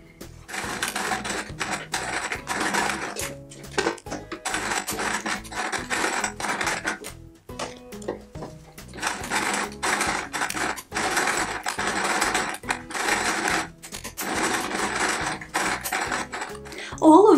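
Sewing machine stitching around appliqué figures on a patchwork quilt, running in long steady bursts of rapid needle chatter separated by brief pauses.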